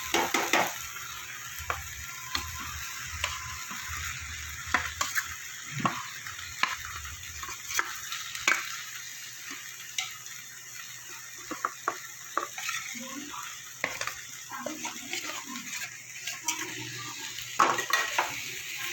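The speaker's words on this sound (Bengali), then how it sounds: "আলুটা দিয়ে আরও কিছু কষিয়ে নেব" Fried potatoes are stirred into a sizzling masala for Bengali egg curry: a soft ongoing fry with frequent spatula scrapes and metallic pan clinks, near and moderately quiet.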